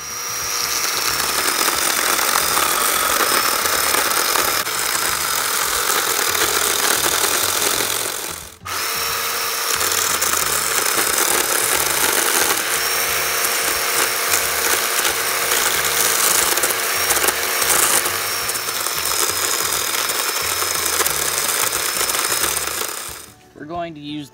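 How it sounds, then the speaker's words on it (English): A sharp chainsaw cuts grid-pattern relief cuts into a tree stump, throwing chips. It runs loud and continuous at high revs, pausing briefly once and dropping off at the very end. "start making some relief cuts in the wood in like a grid pattern, and make sure that your chainsaw is very sharp"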